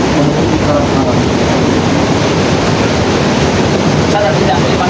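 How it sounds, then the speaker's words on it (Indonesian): Strong ocean waves crash against coral rocks, a loud, continuous churning roar of surf with wind buffeting the microphone, close and unbroken throughout. "Dengarkanlah suara ombak begitu kencang dia menghampar batu karang"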